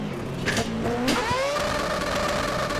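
A car engine in the Assetto Corsa racing game on a Union Island map with traffic revs and climbs in pitch, a rising whine sweeping upward over a continuous mid-level drone.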